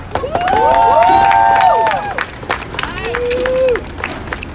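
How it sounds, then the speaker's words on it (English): Crowd at a protest rally breaks into loud applause and cheering, with sustained whoops and shouted voices rising over steady clapping before fading into scattered shouts. "another round of applause for Sam and Mike"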